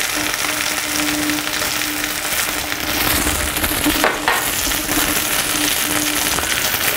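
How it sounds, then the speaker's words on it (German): Chicken livers fry hard in hot oil in a pan, giving a loud, steady sizzle with crackles and pops all the way through, and a brief burst of stirring near the middle. Nobody speaks. "So, für das Ragout brauchen wir unsere Hähnchenleber. Die wird gleich ordentlich angebraten"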